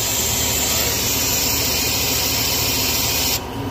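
An Omtech laser cutter engraving letters, a steady loud whirring and grinding drone that runs continuously, then cuts off abruptly near the end.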